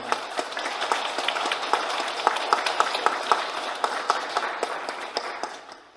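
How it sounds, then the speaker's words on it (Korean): A church congregation at a youth Mass applauds, with a moderate, fairly even spread of hand claps with distinct individual claps that gradually thin and fade toward the end. "박수 좀 드리면서 격려 좀 해주셨으면 좋겠습니다"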